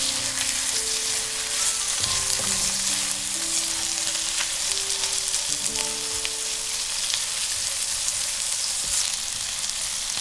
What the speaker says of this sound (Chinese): 炒至葱末微微金黄色，就可以加入腌制好的五花肉。